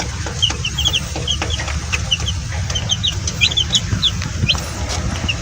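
Young chicks in a backyard poultry setup give a stream of high, quick peeping calls over a constant low rumble, with no voices.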